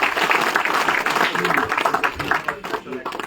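At a political event in Jammu and Kashmir welcoming a new member into the BJP, a crowd applauds loudly and continuously, with voices talking over the dense clapping as it rises and falls.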